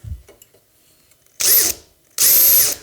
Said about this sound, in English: So now we're ready to go ahead and start drilling these holes.